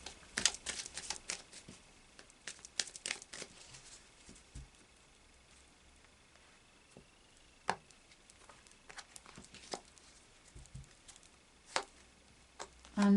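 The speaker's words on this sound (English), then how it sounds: "Right, so final shuffle of the Lightseers Tarot." A Lightseers Tarot deck is shuffled in quick, irregular bursts of soft flicks and taps, close by and fairly quiet, with brief pauses between riffles.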